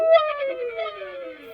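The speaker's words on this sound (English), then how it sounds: "I just took a guitar lick, pitched it down, and stretched it out to make it sound like this." A guitar lick pitched down and time-stretched into a slow, eerie, howling tone that drifts gently downward, clear and alone for a second and a half.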